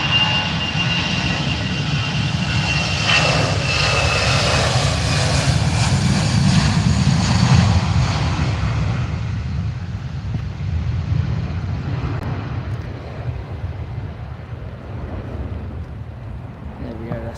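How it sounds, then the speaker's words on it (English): An EasyJet airliner departs Manchester Airport, its jet engines giving a broad, loud roar that builds and then gradually fades into the distance, with wind noise on the microphone and speech at times. "There we go, EasyJet departing."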